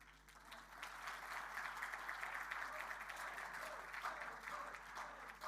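Steady, dense applause from an audience at a board game award ceremony, a continuous wash of many hands clapping at moderate distance, holding evenly throughout.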